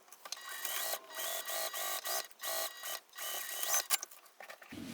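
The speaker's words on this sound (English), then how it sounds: "We're going to sew this again with that seam allowance given in the pattern. Make sure you backstitch when you start and stop sewing this." A sewing machine stitching a clear vinyl pouch runs in quick bursts with brief stops between them, a close rapid mechanical whir and clatter throughout, no voices.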